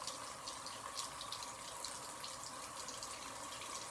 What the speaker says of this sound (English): Now I'm going to rinse my hands with the water at a lukewarm temperature